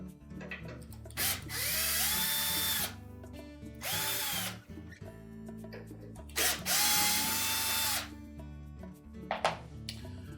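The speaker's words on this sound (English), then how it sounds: "there are 3 bolts that hold that motor to the outer tub, 2 here at the very back, and then 1 up inside here that needs to be removed" A cordless power drill runs in several loud bursts, whirring up and down as it backs out the bolts holding the drive motor to the outer tub of a Frigidaire washer, with ratcheting clicks and short pauses between the runs.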